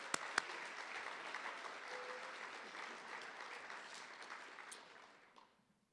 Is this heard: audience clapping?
yes